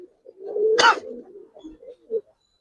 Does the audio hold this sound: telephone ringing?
no